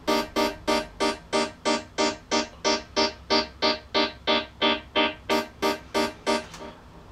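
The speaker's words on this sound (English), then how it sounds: "so the synth sound sounds like this at the moment" A synthesizer preset run through an auto filter while a single key is held, pulsing in a steady rhythmic chop of about twenty bright, tonal bursts, loud and close, with no talk.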